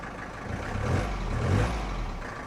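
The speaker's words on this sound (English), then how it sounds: "this right here is your high idle knob. So if you turn it, you can hear it idle up." A 1969 Mercedes 220 diesel engine rising to a higher idle as the high idle knob is turned, a low rumbling clatter swelling gently twice, moderately close with no talk.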